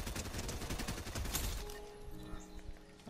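Rapid bursts of assault rifle fire in the video game Fortnite rattle through the first half, dense and loud. The shots then thin out into scattered pops over a lingering tonal hum.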